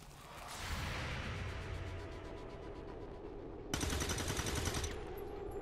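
Overwatch reaction fire in XCOM 2: War of the Chosen, sustained rapid automatic gunfire with whooshing shots, a second sharper burst of rounds near the end, fairly loud and without talk.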